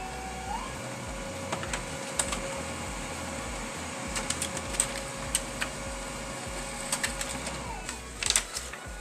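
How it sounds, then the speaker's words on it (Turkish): A Brother printer running a print job: steady mechanical hum with repeated sharp clicks and brief whirring bursts, a louder clatter near the end, no voices. "Ve yazıcımız çalışıyor."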